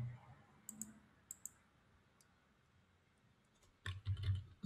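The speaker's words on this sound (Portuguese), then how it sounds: "Deixa eu usar o teclado daqui." Typing on a computer keyboard, scattered light key clicks in small clusters, quiet and close, then a denser burst of keystrokes near the end with low murmuring voice traces.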